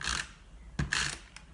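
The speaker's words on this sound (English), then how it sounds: "So I'm going to apply some glue on this flap and I'm using my snail, which is a permanent dry adhesive." A snail permanent dry adhesive tape runner lays glue along a paper box flap, giving brief mechanical clicking and ratcheting rasps in two short bursts, close and fairly quiet.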